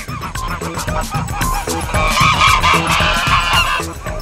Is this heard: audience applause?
no